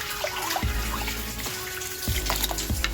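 Water boils up in a pot for a Jamaican-style BBQ sauce, giving a steady bubbling hiss punctuated by repeated low thumps and sharper bursts close by.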